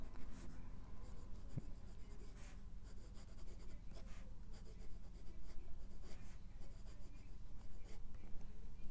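A Jinhao fude-nib fountain pen writes on paper, giving a soft, close scratching in short strokes and pauses, faint and alone.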